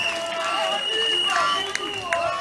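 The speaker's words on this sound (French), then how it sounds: "Applaudissements s'il vous plaît." A crowd at an RHDP campaign rally in Bouaké, Côte d'Ivoire, applauds in a dense, continuous roar of clapping. Thin whistle-like tones ring over it, and the noise stays steady and loud throughout.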